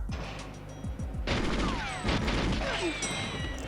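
Submachine gun fire in the Goldeneye video game, rapid bursts of shots over a steady game soundtrack, with ricochet-like whines and someone talking over it.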